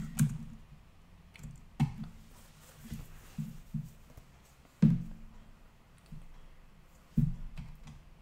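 Typing on a computer keyboard: sparse, separate key clicks at irregular intervals, close and fairly quiet, with no talking.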